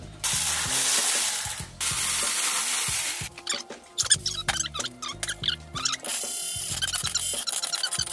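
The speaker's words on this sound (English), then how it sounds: "Now I am screwing in our brand new elongated studs." A ratchet clicks in rapid repeated bursts, loud and close, as new elongated wheel studs are screwed into a Honda Civic hub, with short pauses between runs of turning.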